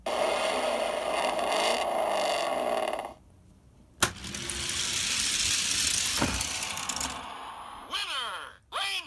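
Hot Wheels toy cars, a Lamborghini and a Spoiler Sport, race down plastic track lanes, giving long rolling rattling whooshes with a sharp clack in the middle and quick whirring scrapes at the end.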